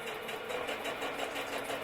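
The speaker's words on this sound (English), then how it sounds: "Let me see if I can run that through the sewing machine real quick." A sewing machine stitches through fabric with a fast, steady mechanical whirr and rapid needle clatter, quiet and continuous, with no voices over it.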